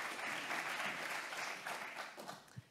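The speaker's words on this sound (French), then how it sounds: "On l'accueille sous vos applaudissements." An audience at an economic inclusion summit applauds to welcome a speaker onto the stage, a steady wash of clapping that swells and then thins out toward the end.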